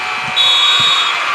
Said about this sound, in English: Here comes the buzzer.